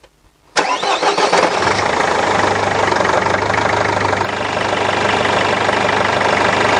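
A Mercedes Sprinter van's diesel engine cranks briefly and catches, then settles into a loud, steady idle close by.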